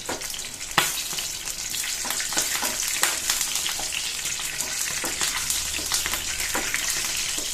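Mustard seeds, lentils and dried red chilies fry in hot oil for ridge gourd curry, crackling and popping densely and loudly throughout. Occasional sharper spits and a stirring scrape sit up close, with no talk.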